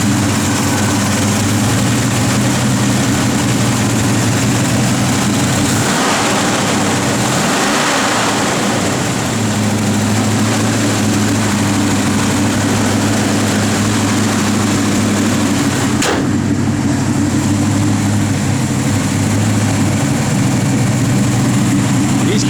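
A 1965 Ford Falcon Sprint engine idles with a steady, deep rumble that runs without break, while voices are faintly heard talking over it.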